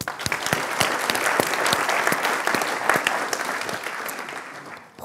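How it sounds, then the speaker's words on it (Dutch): Audience applause at a gathering at the Dutch Supreme Court, a crowd of hands clapping steadily with a few sharp individual claps standing out, fading slightly at the close. "Laatste applaus."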